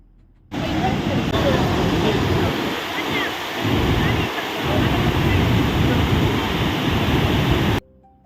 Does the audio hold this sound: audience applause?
no